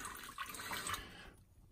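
Saltwater from an aquarium is tipped out of a pre-rinsed glass, a short close splash and trickle that tails off into quiet.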